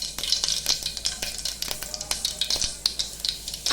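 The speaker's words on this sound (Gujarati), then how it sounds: "મમ્મી હવે શાકનો વઘાર કરે છે." Spices for a vegetable dish crackle and sizzle in hot oil during tempering, with sharp popping bursts over a steady frying hiss, fairly close.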